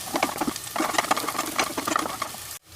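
Small onions fry in hot ghee for thari kanji, giving a steady, close crackling sizzle with stirring scrapes that runs continuously before cutting off abruptly at the end.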